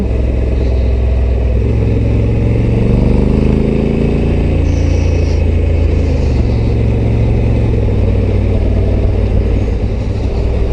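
A Honda Africa Twin Adventure Sports motorcycle cruises on a cold road, its engine a steady low rumble with wind roar, loud and close throughout, with a slight rise in revs midway.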